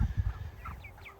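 Meat chickens on a farm on a crisp spring morning give several soft clucks and short calls, fairly close, after a few low thumps at the start.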